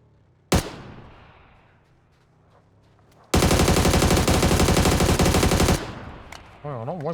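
Sustained automatic gunfire in the battle royale game PUBG: one sharp shot, then about two and a half seconds of loud, rapid continuous fire, ending in a brief voice at the close.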